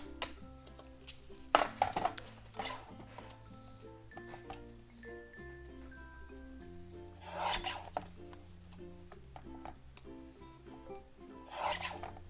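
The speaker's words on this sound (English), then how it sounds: "I'm just going to go ahead and trim off this excess" Scissors trimming excess cardstock from a handmade gumball machine shaker card, heard as scattered soft rasping snips and paper rubs over steady background music, close and fairly quiet.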